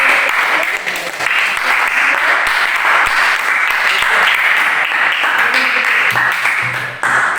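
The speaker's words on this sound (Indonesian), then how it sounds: "Kasih tepuk tangan untuk kelompok 1." Steady, loud applause from a group fills the whole stretch, dense clapping without pause, tapering slightly near the end.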